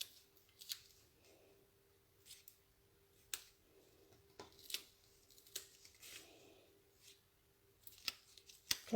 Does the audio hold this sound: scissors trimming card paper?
yes